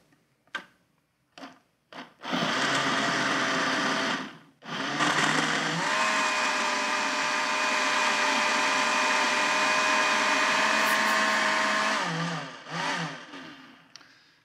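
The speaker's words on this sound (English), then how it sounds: "depending on your blender, it may take 30 seconds, it may take a minute" A blender runs loudly and steadily for about ten seconds blending a smoothie with ice cubes, its pitch shifting as contents churn, preceded by a few short clunks and spinning down at the end.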